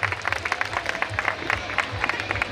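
An audience at a Sandha family community gathering claps together in a brisk, steady burst of applause, with a crowd murmuring faintly underneath.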